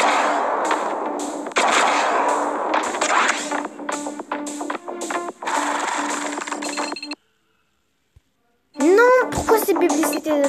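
Rapid synthetic gunshots from the mobile shooting game Johnny Trigger, a quick string of sharp shots over steady game music, a brief silence, then a louder burst of shots and effects.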